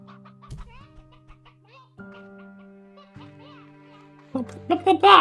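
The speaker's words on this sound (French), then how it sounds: "Il y a une poule là." A chicken clucks in Slime Rancher 2 with a few short calls over soft, tonal game music, then a louder cluster of clucks at the end.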